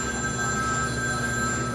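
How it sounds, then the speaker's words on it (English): A telephone ringing at the Wood Brothers racing team after their 1991 Winston Cup win: a steady, continuous electronic ringing tone that lasts under two seconds, with no talk over it. "The phone is rung off the hook,"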